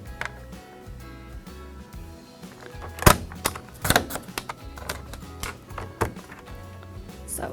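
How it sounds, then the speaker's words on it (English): Cardstock pieces for a 5 by 7 inch card being trimmed on a cutter, with a series of soft taps and clicks and a couple of sharper snaps, close and fairly quiet. "take these two pieces and trim them both down to just under 5 inches"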